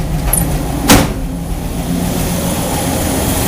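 A tuned 1969 Chevy engine runs at a steady idle, a loud continuous low rumble close by with one brief bump in the sound early on.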